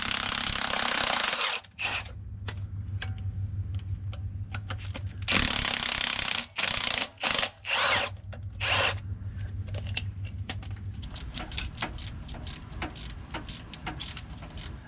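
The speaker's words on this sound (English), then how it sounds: "next I'm gonna pull the transmission mount off so I can gain access to the 2 bolts behind it" A ratchet works on a Chevy Tahoe transmission mount in a driveway, giving rapid clicking bursts and sharp metallic clacks in short, irregular strokes, close and fairly loud, with a steady low hum underneath.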